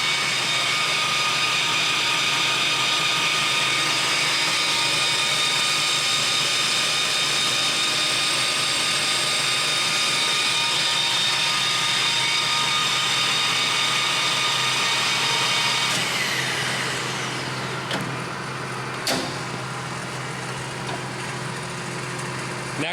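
A Clausing Colchester Master 2500 engine lathe spinning at its top speed of 2,500 RPM, giving a loud steady high-pitched mechanical whine that holds evenly, then begins spinning down near the end.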